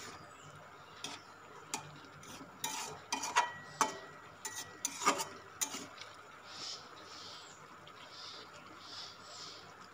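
A spoon stirs spinach and chana dal in a cooking pot, with a run of close clinking and scraping taps bunched in the middle and a quiet hiss before and after.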